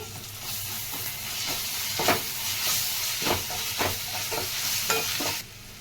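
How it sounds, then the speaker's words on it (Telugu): Ginger-garlic paste frying with onions and green chillies in a hot pan, a steady close sizzle and hiss with scattered stirring scrapes and spatters, fading near the end. "ఫ్రెష్గా తింటున్న అల్లం ఎల్లిపాయ పేస్టు ఇది పచ్చివాసన పోయే వరకు వేయించుకోవాలి"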